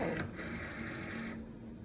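A Cricut cutting machine working on a homemade card, a steady mechanical whir with a faint tonal hum, close and alone.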